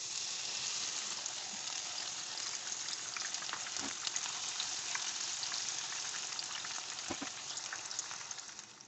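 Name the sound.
whole masoor and moong dal frying in oil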